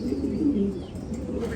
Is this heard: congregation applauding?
no